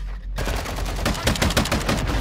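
Gunfire in the shooter game Call of Duty: Modern Warfare II: after a brief hush, loud rapid bursts of automatic fire crackle close and continuous, with sharp shot peaks spiking through.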